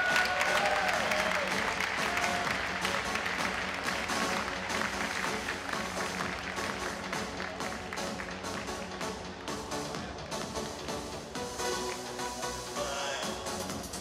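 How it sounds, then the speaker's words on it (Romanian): A crowd applauds the boxers Ciprian Chiru and Isidor Bunea after a unanimous decision at a boxing bout, sustained clapping with cheering in a large hall and an announcer's voice over it. "Încă o dată aplauze pentru sportivii noștri, Chiru Ciprian, Isidor Bunea!"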